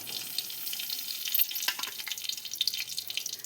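Cumin and mustard seeds, along with curry leaves, sizzle and crackle in hot oil for a North Karnataka tempering. A steady hiss carries quick popping crackles that grow busier toward the end, close and moderately loud, with no voices.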